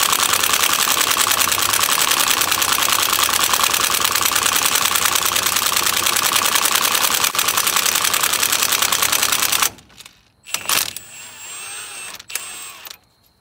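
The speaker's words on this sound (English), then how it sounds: "Get the impact. Hold the rotor. And I'm gonna let it clack, clack," An impact wrench hammers continuously on a wheel stud in a shop, a loud, dense rattling clatter lasting about ten seconds before cutting off, followed by a few short bursts and quieter handling noise.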